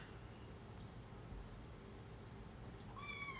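A cat gives a short meow near the end over a steady low background rumble.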